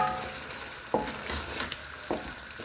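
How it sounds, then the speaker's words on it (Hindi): Mutton masala with cream and garam masala fries in a pan, a close, continuous sizzle broken by a few louder stirring scrapes, with no talk. "अब हमने उतनी देर भूनना है कि ऑयल जो है वो सेपरेट हो जाए"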